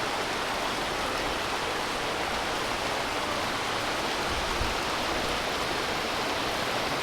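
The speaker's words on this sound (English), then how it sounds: "What other capital city has a canyon with a sulfur stream and waterfall running through it?" Steady broadband rush of a sulfur-rich, green mineral stream and small waterfall flowing through a canyon in Tbilisi, Georgia, continuous and close with no voices.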